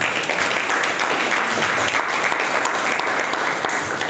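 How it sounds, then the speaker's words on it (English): An audience at a Shapers Network Africa live event gives a big round of applause, a dense, steady wash of many hands clapping at once that holds loud and even throughout, with no voices rising above it. "I think a big round of applause should actually be"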